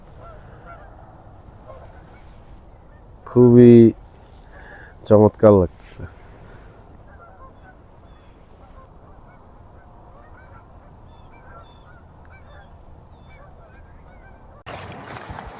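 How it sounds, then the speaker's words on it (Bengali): Goose-like birds by a river during a fishing trip in the USA give loud, close honking calls, one then a quick pair, over quiet outdoor background with people talking. "পাখির শব্দ শুনতে পাচ্ছেন ডাক শুনতে পাচ্ছেন"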